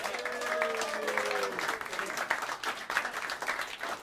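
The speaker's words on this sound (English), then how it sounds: "I would round applause for him." Audience applause in a small New York jazz club, Smalls, welcoming a drummer with a trio; clapping swells after a spoken introduction and carries through to the end.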